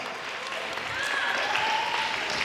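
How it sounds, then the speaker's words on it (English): Audience applause during a life coaching and mental training speech, a short burst of many hands clapping that swells slightly toward the end, with faint voices mixed in. "Round of applause."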